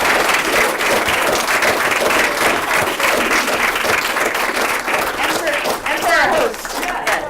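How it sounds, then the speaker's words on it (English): An audience gives a sustained round of dense applause at the close of a talk, many hands clapping steadily throughout, with a brief spoken voice over it near the start. "please have a round of applause for our amazing"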